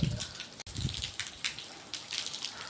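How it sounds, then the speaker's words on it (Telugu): Heavy rain falls in a steady, soft hiss with scattered splashes and drips, heard outside a home and fairly close, with no talk. "చూసారా, ఎంతగా వర్షం పడుతుంది"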